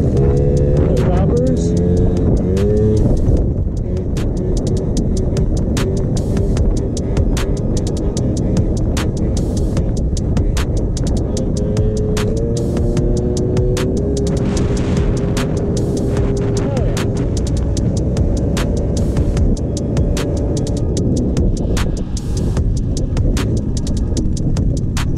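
A Honda Rebel 250 motorcycle engine idles and revs loudly nearby as it warms up, with a steady throbbing drone and rising pitch sweeps, while people talk over it.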